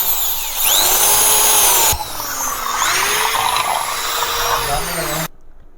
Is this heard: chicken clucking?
no